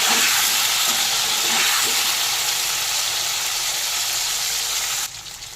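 Cauliflower pieces and potato fry in hot oil, giving a loud, steady, close sizzling hiss that holds evenly and then drops off sharply near the end.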